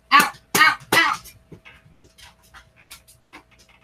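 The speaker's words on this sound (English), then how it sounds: "I got two stray dogs just walked in my house." Two stray dogs that have wandered into a house pant and huff close by, three loud bursts up front followed by softer, quicker breaths and light snuffling.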